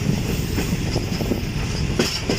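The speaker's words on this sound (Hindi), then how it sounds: "गाड़ी पर स्लो स्पीड में चल रही है।" The Awam Express train rolls at slow speed near Khaaro and Run Pathani railway stations, with a steady loud rumble and faint rhythmic wheel clicks heard from on board.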